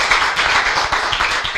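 A crowd of girls applauding at a live event, dense steady clapping held at an even, fairly loud level for the whole stretch with no talk over it.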